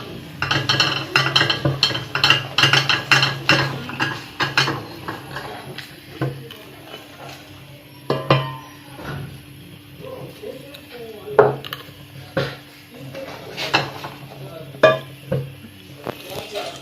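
Hot jaggery turned crisp for dry fruit chikki is stirred in a pan, making dense scraping and clinking strokes in quick bursts, then sparser scrapes and taps, close and loud, with a voice talking intermittently over it.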